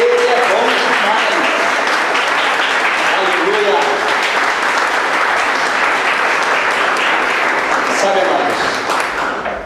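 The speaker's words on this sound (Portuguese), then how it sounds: "uma salva de palmas ao Senhor" Congregation applauding at a church youth retreat Sunday morning service, loud, dense clapping that fills the space without a break while a preacher keeps talking over it.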